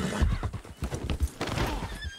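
A horse's hooves clip-clop in quick, close, uneven beats while the animal whinnies and snorts, loud and near, with a few voices faintly in the background.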